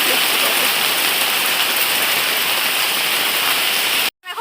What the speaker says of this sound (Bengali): আর বাইরে হচ্ছে বৃষ্টি